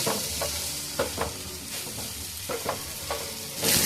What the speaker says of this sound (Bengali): এই মশলা দিয়ে এবারে শুকনো শুকনো করে সুন্দর করে ভেজে নিতে হবে